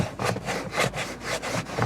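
A stiff, hard WeatherTech floor mat in a Mercedes E-Class being knocked and scraped, several close, dry rasping strokes in quick succession with a hollow plasticky texture, no voices.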